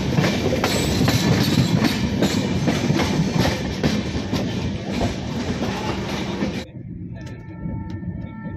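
Howrah Ahmedabad SF Express rolling out of Raigarh station in Chhattisgarh, with a loud steady rumble and clickety-clack of wheels that drops away sharply near the end into a quieter hum.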